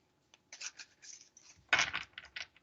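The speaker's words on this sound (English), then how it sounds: "They're just so easy to shuffle." Deck of tarot cards being shuffled by hand, a run of soft riffling and scraping bursts with one louder flurry near the middle, close and fairly quiet.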